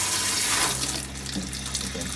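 Water rushes through newly built shower plumbing in a Toyota Coaster bus conversion, fed by a battery-powered pump during a pressure test; a steady hiss of flow, loud at first and then settling slightly, with no voices.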